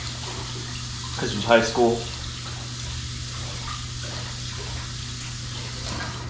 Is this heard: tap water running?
yes